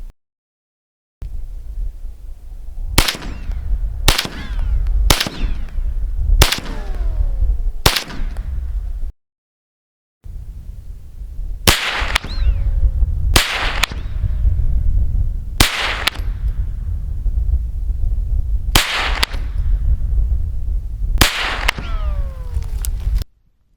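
Sharp, loud gunshots from a 9mm carbine, fired one at a time in two spaced series at 25 and 100 metres, with short pauses between shots, each crack followed by a brief echo.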